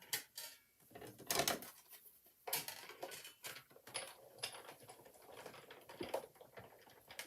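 A die-cutting machine embossing a card through a die with a magnetic platform and two plates, giving quiet, uneven runs of clicking and ratcheting taps with small knocks, close by.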